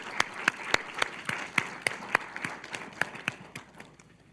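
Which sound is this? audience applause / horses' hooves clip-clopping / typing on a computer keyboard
audience applause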